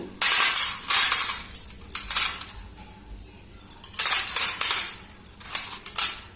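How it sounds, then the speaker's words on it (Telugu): One-rupee coins dropped onto a small plate, bright metallic clinks and jingles arriving in several bursts with short pauses between them, close and clear with no talking. "ఆ ప్లేట్లో కంపల్సరీగా మనము కొన్ని కాయిన్స్ అనేవి వేయాలండి"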